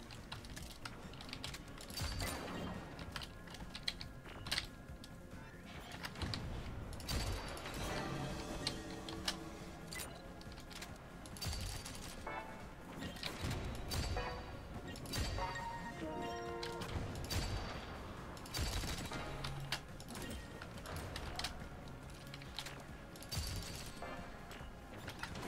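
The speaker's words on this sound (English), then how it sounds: "Okay, I just need to shoot the mines now." Gunfire shooting mines in Rollerdrome, a quiet, steady stream of rapid clicky shots and small impacts running throughout, fairly faint and close.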